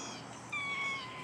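A single short meow from a house cat, formerly a stray, close and fairly loud over a quiet indoor background.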